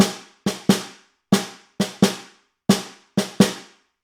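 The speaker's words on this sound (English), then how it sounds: "And without the drags, it sounds like this." A snare drum audition rhythm for grades 11/12 played without drags: clean, dry single and paired strokes in a steady repeating pattern, close and unaccompanied.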